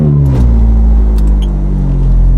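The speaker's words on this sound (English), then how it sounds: "Naturally aspirated V8." Ferrari 430 naturally aspirated V8 engine running, a loud, deep, close rumble that holds steady with a slight rise and settle over a couple of seconds.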